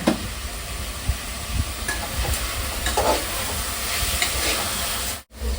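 Onions, tomatoes, ginger and garlic sauté in a hot pan for biryani with a constant sizzling hiss and occasional scraping stirs, close and moderately loud, ending in a brief dropout.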